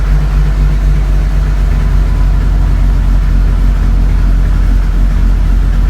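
A 1983 Volkswagen Rabbit GTI engine idles steadily and loudly up close on its first start-up, a continuous low rumble with no change in speed and no voices.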